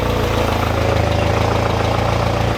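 A 1987 Volkswagen Jetta GL engine idles with no muffler, giving a loud, raw, steady rumble with an even, throbbing pulse that stays constant throughout.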